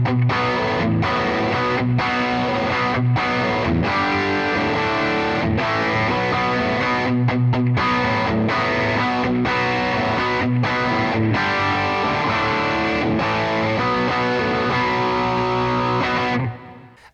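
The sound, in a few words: BOSS GX-100 dual amps panned left and right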